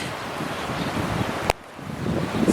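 Strong gusting wind in a garden with a linden tree swaying, a steady broad roar with microphone buffeting and a sharp knock midway, no speech.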